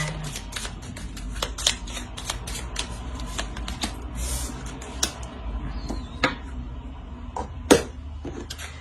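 Tarot cards are handled and drawn from a deck, with close, sharp snapping and sliding taps scattered irregularly over quiet background noise.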